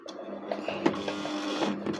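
Electric tabletop household sewing machine stitching the back-stitch step of a four-step buttonhole, a steady close mechanical whirr with faint rhythmic needle ticks and no talking.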